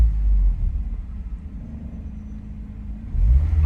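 A Honda NSX AP1 engine idles with a low, close rumble, the revs sagging after a louder start and then swelling again near the end, with no talking.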